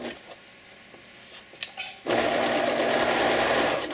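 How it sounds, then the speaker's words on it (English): A sewing machine stitching a bib apron at a quarter-inch seam: after a couple of seconds of quiet handling noises, the motor kicks in with a loud, steady, close whirr that runs to the end. "I'm going to stitch at a quarter inch."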